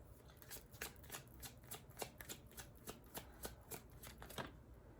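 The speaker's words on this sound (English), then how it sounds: "let's get a couple more cards out." Tarot cards shuffled by hand in a rapid, even riffle of crisp snapping flicks, close and clear, running continuously with no talk.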